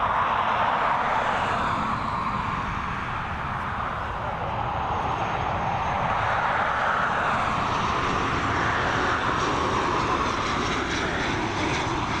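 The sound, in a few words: ATR 72-600 aircraft landing at Dublin Airport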